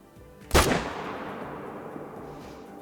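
A single loud rifle shot fired at a blacktail deer in the hunting game Hunter: Call of the Wild cracks sharply, then rolls away in a long echoing tail, with no talking.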